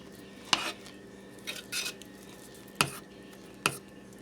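Cream soap batter being stirred by hand in a pot, giving a few separate clinks and scrapes of the utensil against the container with quiet gaps between them, close up and with no talking.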